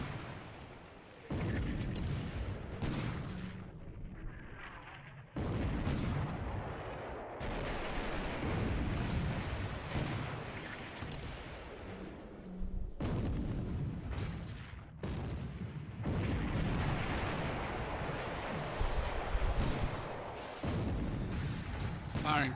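Naval artillery shells boom in a World War II video game battle set in 1941, with repeated heavy blasts and rumbling bursts over a long stretch while a voice talks over the gunfire.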